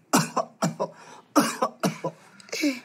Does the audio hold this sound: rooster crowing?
no